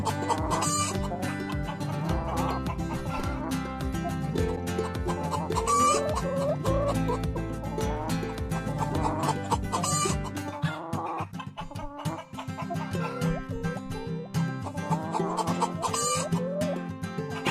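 Free-range farmyard chickens cluck and chatter continuously over a backing of music, with busy overlapping calls that carry on for the full stretch.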